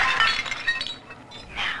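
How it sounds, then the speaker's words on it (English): Porcelain tea service in the style of Louis XV in the video game BioShock 2, giving bright, delicate clinks and chinks of china in several quick bursts, then a pause and a final clink, with no voices. "This, I think, is our porcelain tea service in the style of Louis XV."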